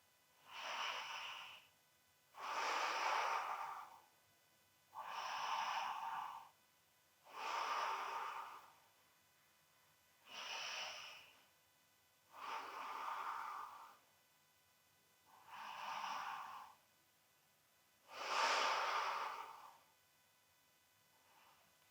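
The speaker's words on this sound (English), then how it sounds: "Breathing deep." Slow, deep breaths during a yoga flow, about eight even inhale-exhale cycles of two seconds each separated by short pauses, close and soft, with no talking.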